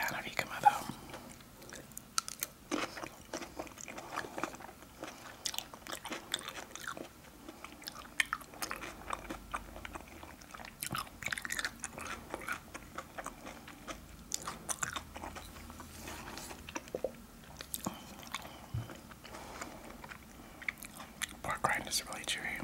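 Close, quiet chewing and crunching of tostilocos, a Tijuana street snack, with steady rhythmic bites and mouth sounds through the whole stretch, and soft whispered speech now and then.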